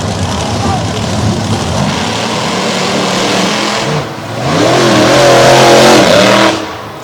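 Ford and Chevrolet drag race cars launch at a Renegade event, their engines roaring loud and steady, then rising to a harsher, louder wail after a brief dip, with a commentator's voice running over them.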